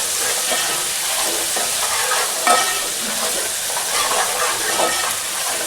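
Onions, green chilies and ginger paste fry in hot oil while being stirred, a loud close sizzle with scraping spoon strokes and a few sharper crackles.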